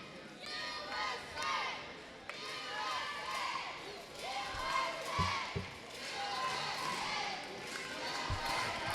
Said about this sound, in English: The USA chant starts.